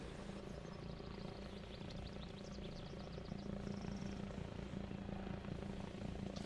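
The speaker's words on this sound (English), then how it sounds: "Enemy chopper landed northeast of Oklahoma on the shoreline." A helicopter in the video game ARMA Reforger, a steady loud rotor drone and engine hum that holds through the whole stretch and swells slightly toward the end, with no talk over it.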